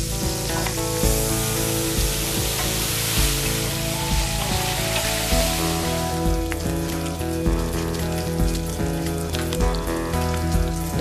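Onions sizzle steadily in a hot pan, a close, dense frying hiss with scattered crackles and light stirring throughout, with no talking.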